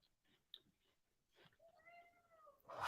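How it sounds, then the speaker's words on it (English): A cat lets out one drawn-out meow indoors, fairly close but soft, following scattered small knocks and rustles, with a louder burst of noise at the very end. "Cat's here, causing mayhem."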